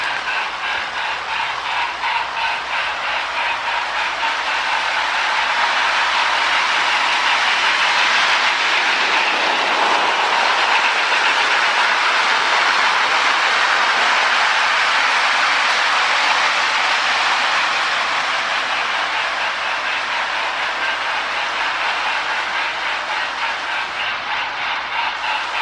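A Marx duplex cab forward toy train runs around its track with a continuous rolling rattle and whir that swells louder as it passes close, then eases back, without talking.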